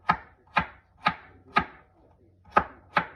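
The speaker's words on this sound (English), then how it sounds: "Then I'm going to cut it again and make quarters of the carrot. And then we're just going to chop like this." A knife chops carrot quarters on a cutting board in six crisp, evenly spaced knocks about half a second apart, close and clear with no talking.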